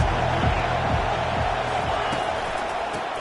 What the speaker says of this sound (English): They are pinned deep, and this crowd is letting them have it.